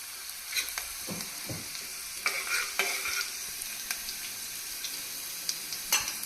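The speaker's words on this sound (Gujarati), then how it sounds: "જીરું નાખીશું. જીરું સંતળાઈ જાય" Cumin seeds sizzling in hot oil for spiced fried rice, a soft steady crackle broken by several sharp clicks and scrapes of a spoon stirring the pan, close by and with no talking.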